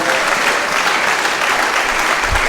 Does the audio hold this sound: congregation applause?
yes